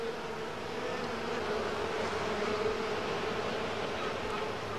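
Honeybees buzzing inside a working colony, a dense, steady drone of many wings close by, with no voices over it.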